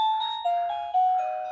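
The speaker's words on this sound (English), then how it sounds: "that bell, that means a cup of tea time" A bell rung as a call for tea in a home garage workshop gives a bright, sustained electronic ding-dong chime. Its tones ring out clearly and alone, then slowly fade.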